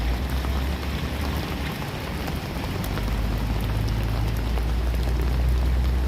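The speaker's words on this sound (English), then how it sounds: "because of the atmosphere and the rain coming down and the mist" Steady rain hisses continuously in misty weather outside the ICE building in Portland, Oregon, a dense, even wash of drops with no talk.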